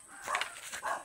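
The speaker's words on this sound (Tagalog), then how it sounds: "May mga aso pa." A couple of quick dog barks ring out at a moderate distance over faint background noise outdoors.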